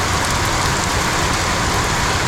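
Steady rain falls in a constant broadband hiss, heard outdoors around a 1976 Bricklin sports car, with no talking and no break in the downpour.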